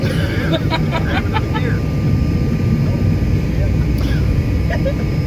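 A loud, steady jet engine roar fills a small private jet cabin, with voices murmuring faintly beneath it.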